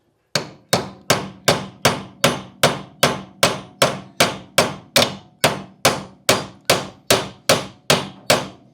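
A rivet from a Jaguar XK8 shock mount is hammered flat on the anvil at the back of a bench vise. About twenty sharp, ringing metal strikes land at a steady, even pace, loud and close, with no talking.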